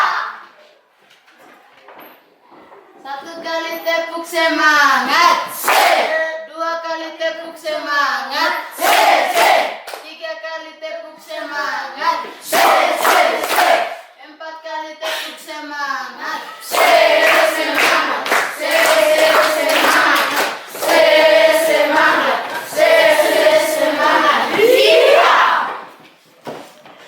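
Children perform a tepuk semangat group clapping chant, shouting counted phrases in unison with bursts of rhythmic hand claps, loud and close, building into sustained cheering chant toward the end after a quieter start.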